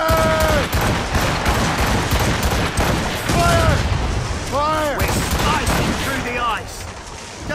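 Ship cannons fire a broadside in the Assassin's Creed Rogue game, a rolling volley of booming blasts layered over loud game sound effects and shouted voices.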